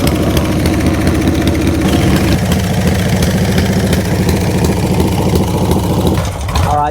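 A Harley Sportster chopper engine idles loud and close with a steady, lumpy low beat, running slightly slow and sounding ready to stall, before the throttle is blipped near the end.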